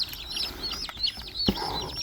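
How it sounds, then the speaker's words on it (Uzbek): Newly hatched Dakan breed chicks, just brought from the incubator, cheep in a steady stream of shrill, overlapping peeps, close and fairly loud with no talking. "Bu dakan jo'jalar bugun inkubatordan olib kelindi"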